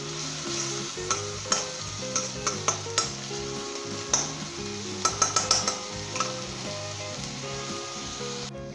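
Ginger, garlic and onion fry in a pan over medium heat with a continuous sizzle, while a utensil stirs and scrapes against the pan in repeated close clinks and taps.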